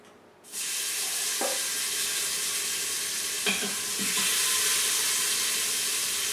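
Oxtail meat is dropped into hot oil in an Instant Pot and browns with a sudden loud sizzle that holds steady, while a few knocks of a utensil sound against the pot.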